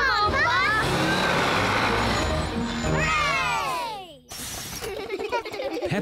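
A cartoon bus labours up a steep mountain road, its engine straining with rising, wavering tones under children's excited voices, then a sudden cut to quieter scattered sounds.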